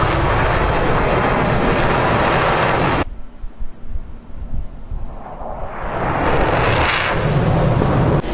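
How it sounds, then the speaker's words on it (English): An F-16 jet in the DCS flight simulator, flying a 1991 Gulf War Kuwait mission, roars loud and steady, then cuts abruptly to a quieter rumble before a rushing whoosh swells back up to full volume. "Here's one slick F-16."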